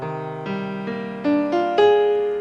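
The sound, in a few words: dissonant minor chord with flat thirteenth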